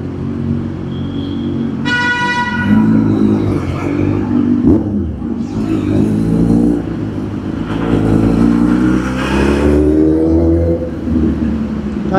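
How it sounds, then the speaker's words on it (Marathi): Heavy car and motorcycle traffic inside a road tunnel, with engines droning and revving, echoing, and a long horn toot, loud and continuous throughout. "नाहीतर बोगद्यामध्ये मोस्टली एवढं ट्रॅफिक होत नाही"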